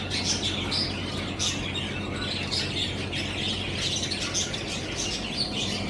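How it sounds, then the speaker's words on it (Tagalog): Birds chirp and tweet repeatedly inside a bookstore in Doha, Qatar, a busy layer of high calls over steady indoor hum and room noise. "May mga ibon din sila dito."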